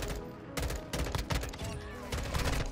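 Short bursts of M16 rifle fire in Call of Duty: Modern Warfare II, several quick clusters of shots rising over background game noise, loud and close, with faint talking underneath.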